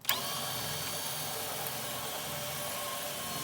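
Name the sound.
screw gun removing screws from a TV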